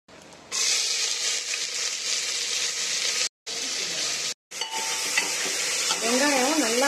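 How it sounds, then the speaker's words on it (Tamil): Chopped onions sizzling and frying in hot oil in a pan with bay leaf, while vadacurry is being made, a steady loud hiss broken by two brief silences, with soft stirring noises and a faint voice toward the end. "வெங்காயம் நல்லா வதக்கி விட்டுக்கலாம்."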